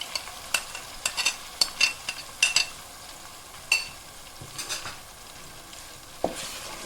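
Ground paste of onion, sesame, dried coconut and peanut with ginger-garlic frying in a pan for salan, sizzling softly while a spoon stirs it in a string of sharp scraping strokes, close up with no voices.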